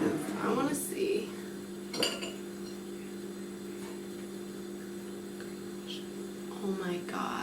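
A knife cuts into a zucchini muffin still in its hot baking pan: a few sharp metallic clinks and scrapes at the start and middle, then quiet with a low hum behind.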